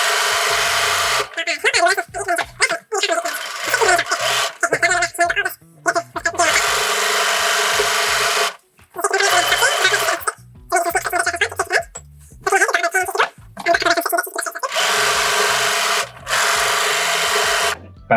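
A sewing machine fitted with a dual feed foot quilts a stitch-in-the-ditch line through a heavy quilt, running in loud close bursts separated by short pauses, with a voice talking between runs.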